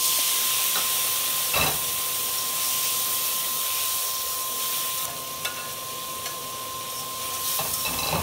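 Spice paste of green chili, cumin, coriander and turmeric powder mixed with a little water fries in a pan, giving a continuous, even sizzling hiss with a few soft clinks of stirring.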